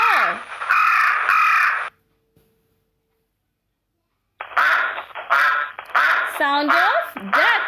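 Ducks quack in short, nasal bursts after a short silence, a rapid run of loud, close quacks repeated in an uneven rhythm, with an earlier bird call at the start and no talk.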